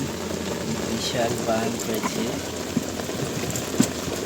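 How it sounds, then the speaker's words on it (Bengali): Heavy rain pours on the Padma river, a dense steady hiss of drops with a few sharper splashes, while someone talks over it. "এই যে দেখুন বন্ধুরা পদ্মা নদীতে বৃষ্টি এসেছে অনেক জোরে বৃষ্টি এসেছে"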